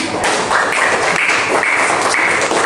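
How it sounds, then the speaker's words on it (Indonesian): An audience in a classroom teaching session breaks into dense, steady clapping, a loud close wash of many hands applauding without pause. "Boleh tepuk tangan"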